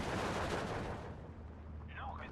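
Aircraft strafing gunfire in the Steel Division 2 WWII strategy game forms a dense, continuous rumbling rattle that fades slightly toward the end, with no voices over it.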